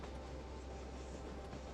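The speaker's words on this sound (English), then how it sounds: "As the train forges ahead" The Ghan passenger train rolls through the Australian outback, its carriages producing a continuous low rumble on the rails, steady and fairly faint with no distinct clacks.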